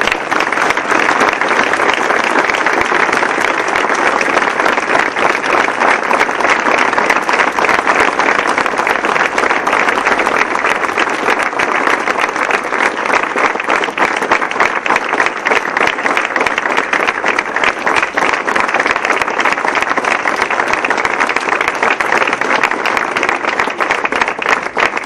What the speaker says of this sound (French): nous pouvons même les applaudir